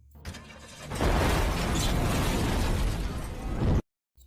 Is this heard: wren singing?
no